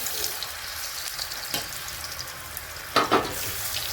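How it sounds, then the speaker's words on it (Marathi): Chakli dough spirals drop into hot oil and fry, giving a continuous close bubbling sizzle with a brief louder crackle near the end. "तेल गरम झालेलं आहे आपण आता तेलामध्ये चकली सोडू"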